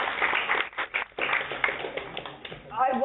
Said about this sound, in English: You can clap for them, they deserve it.